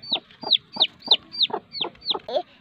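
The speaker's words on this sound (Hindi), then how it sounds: "ये छोटे छोटे चूजे, ये 3 चूजे हैं छोटे छोटे, और बस इन 3 चूजे निकाल कर मुर्गी अपने अंडों से उठ गई है।" A hen with three newly hatched chicks in a village yard clucks in a steady series of about eight short, evenly spaced calls, each with a high, sharp chirp-like onset, close and moderately loud with no talk.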